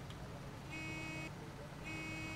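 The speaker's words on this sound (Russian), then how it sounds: "Да, клаксон такой смешной." In the off-road driving game SnowRunner, a vehicle horn gives two short, faint honks with a pause between them over a steady low engine rumble.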